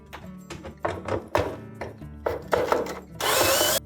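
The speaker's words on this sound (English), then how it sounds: "So now we'll just remove those 10mm bolts." A power driver spins out 10mm bolts from the spider assembly of an LG washer drum, in several short close whirring bursts with brief pauses, ending in one longer, harsher run.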